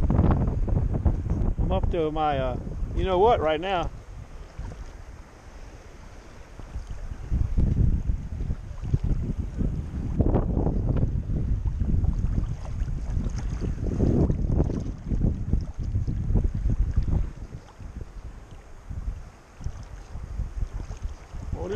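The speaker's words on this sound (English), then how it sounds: "Wind is picking up, I know that." Wind gusts roar across open water stirred into small choppy waves, buffeting the microphone in heavy low rumbles, while someone talks over it now and then.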